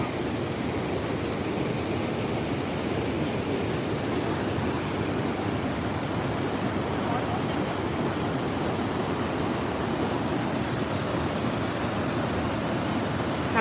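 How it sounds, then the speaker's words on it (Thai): Water pours steadily over Krasiao Dam, a broad, constant rushing roar like a waterfall, heard from a moderate distance with no voices. "สวยมากค่ะ เหมือนน้ำตกเลย"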